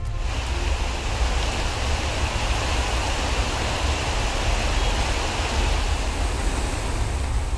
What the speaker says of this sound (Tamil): தமிழகத்தின் பல்வேறு பகுதிகளில் பரவலாக பெய்த மழை